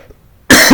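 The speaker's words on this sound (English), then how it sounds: "I'm sorry about coughing." A single loud, harsh cough bursts in abruptly after a near-silent pause. It comes from someone with a sore voice and continues for a moment, close to the microphone.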